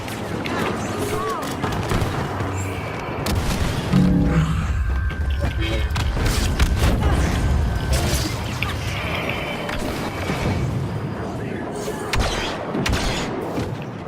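Mines exploding on a busy battlefield in Star Wars Battlefront's Galactic Assault, with repeated booms mixed into constant blaster gunfire and mechanical clatter, loud and dense throughout.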